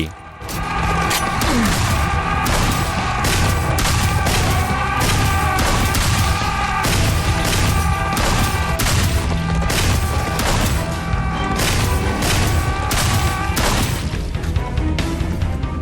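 Auto shotgun blasting in Serious Sam 4, loud rapid repeated booming shots in a steady stream over a thick layer of game music and combat noise.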